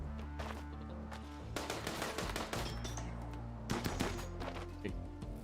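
Gunfire from a RimWorld colony battle, with dense bursts of shots crackling through the clip and stronger volleys near the start and the end over a steady low background hum.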